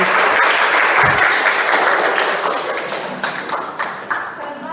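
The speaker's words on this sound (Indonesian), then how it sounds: "Tepuk tangan kita." A room of people claps enthusiastically, a busy wash of applause that gradually thins and fades toward the end.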